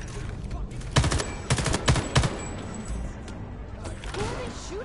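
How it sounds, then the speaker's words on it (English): Rapid bursts of gunfire in Homefront: The Revolution crackle in quick clusters over a busy, noisy battle background, then give way to a quieter stretch. "Who are they shooting at?"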